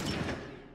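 A single gunshot fires in The Last of Us, a loud, full blast with a short ringing decay.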